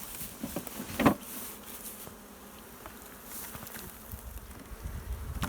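Bees buzz steadily as a beehive is opened outdoors, with a continuous close hum and a few sharper knocks and rustles from handling the hive.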